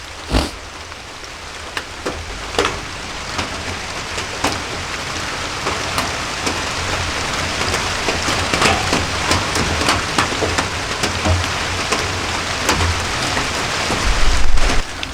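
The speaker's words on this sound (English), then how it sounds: "The rain is finally starting to kind of let up." Steady rain falls during a muzzleloader deer hunt, a dense continuous hiss of drops pattering on surfaces nearby, with a few louder taps and a low rumble late on, no talking.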